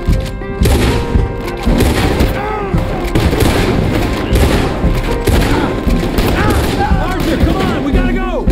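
Rapid bursts of gunfire crackle and boom through a Red Dead Redemption 2 shootout, loud and nearly continuous for the whole stretch, with voices shouting over the shots.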